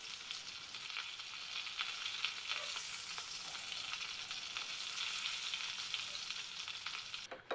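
Oxtail pieces sear on high heat over coals, giving a steady, dense sizzle that holds evenly throughout with faint crackles and a brief clatter at the very end.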